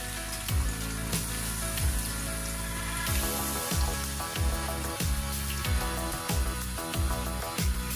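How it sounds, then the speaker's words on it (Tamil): Eggplant pieces fry in hot oil, giving a steady, loud bubbling sizzle throughout with repeated pops and sputters, no voices. "பொரிக்க கொஞ்சம் கொஞ்சமாக போட்டு நாங்கள் கத்தரிக்காயை பொரிச்சு எடுக்கிறோம்"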